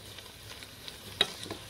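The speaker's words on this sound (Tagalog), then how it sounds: "Tapos stir mo siya." A kilo of pork is stirred in a pan over a faint sizzle, with soft utensil scrapes and one sharper metallic clink partway through, quiet and close.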